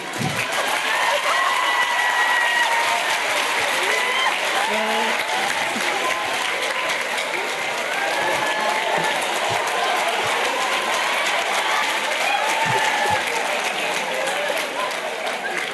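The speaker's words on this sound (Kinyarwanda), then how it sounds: "mwamuhaye amashyi" Sustained audience applause fills a hall after an impersonator's performance of a president's speaking style, dense and steady from start to finish with scattered cheers and murmurs.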